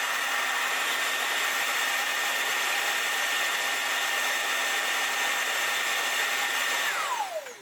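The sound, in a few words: robot vacuum emptying at its station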